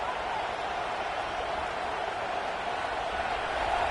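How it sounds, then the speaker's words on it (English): Stadium crowd in a college football video game, a dense steady roar filling the whole span at constant loudness, no voices standing out above it. "This crowd, full throat, splitting the eardrums and letting them know it's going to be a long day."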